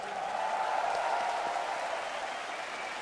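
Esports arena crowd at the PGL Major Kraków 2017 Counter-Strike quarter-final, Gambit vs Fnatic on Inferno, applauding and cheering in a steady, dense wash that holds loud throughout.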